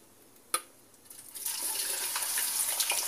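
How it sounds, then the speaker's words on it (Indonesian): Salem pindang fish drops into hot oil with a sharp pop, then settles into a rising, steady hiss of frying that grows louder and holds for a few seconds. "ikan salem digoreng"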